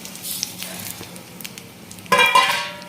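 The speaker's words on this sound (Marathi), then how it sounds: "आता एक खडे मसाले आहेत ते भाजून घ्यायचे काही सेकंद फक्त आणि लगेच आपल्याला याच्यामध्ये धने पण टाकून घ्यायचे" Whole spices and coriander seeds dry-roast in a hot pan for a spicy country-chicken curry. Soft scraping and light crackling give way to a louder burst of sizzling and rattling near the end.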